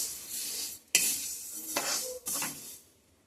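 Black sesame seeds dry-roasting in a kadai are stirred in a few scraping, rustling strokes with brief pauses, close and moderately loud.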